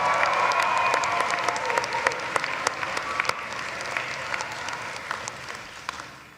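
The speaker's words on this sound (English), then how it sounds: "Let's give them a round of applause as well." Audience applause for the musicians at a 2023 commencement ceremony in Gentile Arena, a steady wash of many hands clapping that fills the hall evenly and slowly tapers off toward the end.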